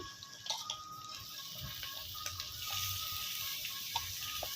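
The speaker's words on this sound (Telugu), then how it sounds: "టమాటా వేస్తున్నాను చాలా టమాటా వేస్తాను" Tomatoes sizzle gently in a pan over a husk-fuelled clay stove, a soft continuous frying hiss broken by a few light stirring clicks and scrapes, with no one speaking.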